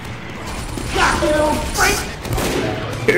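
Revolver shots in the video game Team Fortress 2 go off in a few scattered bursts, mixed with game sounds and voices talking over the action.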